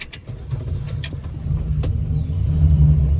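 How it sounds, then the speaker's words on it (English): Low engine rumble fills the cabin of a 1974 Plymouth Valiant and grows louder while driving, with a few light rattles and clicks above it. "you can hear just how loud it is inside this car"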